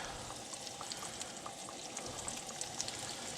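Perch fish sizzles steadily in hot oil, a dense, even crackle with scattered bright pops, close and constant, with no voices.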